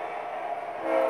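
Model train engine on a home layout starting up, a steady droning horn-like tone held for about a second, swelling slightly louder at the end, close and alone.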